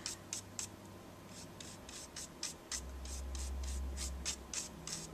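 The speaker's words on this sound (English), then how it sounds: "this is when I take my little paintbrush, I think it's out of a watercolor kit actually, and just brush away what I don't need" A small watercolor paintbrush sweeps excess embossing powder off a stamped card, making faint, quick, rhythmic brushing strokes, about a dozen soft scratches in a row with nothing else around them.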